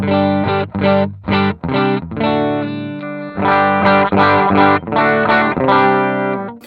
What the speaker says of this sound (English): the Tone Factor, David Hislop's Tone Factor Benson. And it sounds like this